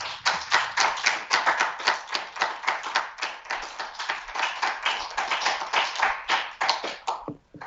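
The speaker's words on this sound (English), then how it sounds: "I hope you're able to hear that applause, Gabby." A small audience applauds after a talk, a brisk run of distinct, close handclaps with a crisp, tapping quality that keeps a fairly even rhythm and then thins out at the end.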